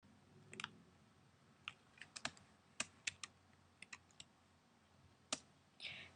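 Scattered keyboard clicks as shortcut keys are pressed while drawing and animating in Harmony 11, sharp isolated taps and short double presses spread over a quiet background.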